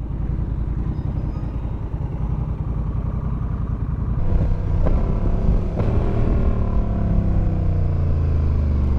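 A motorcycle fitted with Pirelli Night Dragon tires rides along a road. A loud, steady engine rumble and wind roar run throughout, and the engine swells and shifts partway through as the bike picks up speed.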